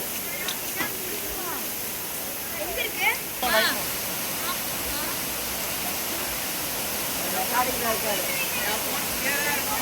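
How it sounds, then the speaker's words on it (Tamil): Rushing water at Kanthalur waterfall, a dense continuous roar filling the background while several people talk and call out over it. "காந்தலூர் ஃபால்ஸ்"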